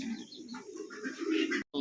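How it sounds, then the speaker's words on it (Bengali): A pair of white Bombay pigeons gives a brief, low, throaty coo with a few higher chirpy notes, close by and fairly soft, lasting under two seconds. "দেখতে পাচ্ছেন স্ক্রিনে দুর্দান্ত কোয়ালিটি এক জোড়া বোম্বাই কবুতর"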